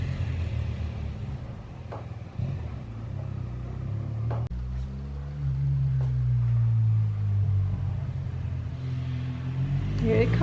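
A BMW GS motorcycle is ridden for a spin to warm its oil, its engine a low rumbling drone that rises and falls with revs, moderately close, with someone talking over it.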